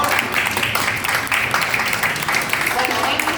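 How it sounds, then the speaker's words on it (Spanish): Audience applause at a book presentation, a steady wash of many hands clapping that fills the room at moderate loudness and holds evenly without a break. "Un aplauso, por favor."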